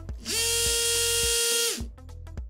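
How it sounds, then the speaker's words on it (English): An Osteodrive MCI-270 surgical oscillating saw whirs up and runs with a steady, loud high-pitched whine for about a second and a half, then winds down, followed by a few faint clicks. "You can then depress the lever to run the saw."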